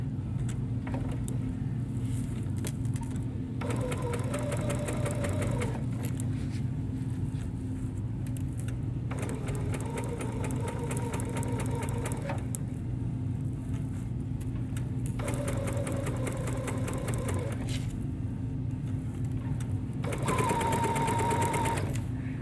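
A sewing machine stitches along a marked line on a quilted ornament trivet made with Insul-Brite and backing fabric, running in several separate bursts over a steady low background hum.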